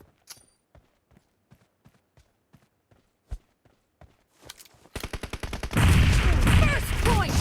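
PUBG Mobile team deathmatch: a string of spaced, sharp in-game shotgun blasts and footsteps, building into a continuous loud barrage of gunfire and action noise toward the end.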